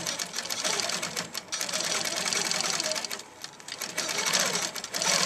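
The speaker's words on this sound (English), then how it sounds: "The machine goes faster, but I found with this design it was better on medium speed" A quilting machine stitches a fish-design quilt at fast speed, a continuous close whirring hum with rapid needle chatter and brief pauses.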